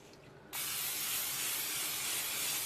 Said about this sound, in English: and spray it with canola oil.